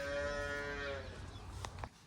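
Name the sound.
cow or calf mooing on a farm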